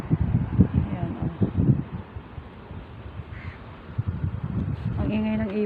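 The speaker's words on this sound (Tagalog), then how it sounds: "Ang ingay ng ibon." Birds call noisily outdoors on an afternoon, harsh cawing and quacking-like cries mixed with a voice speaking, against a steady background hiss.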